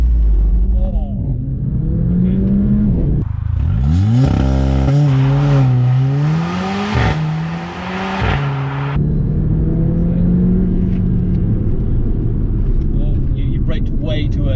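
A 400 bhp Mercedes CLA 45 AMG accelerates hard in a timed run, its engine climbing through rising revs and gear changes with a loud roar, while people inside talk over it.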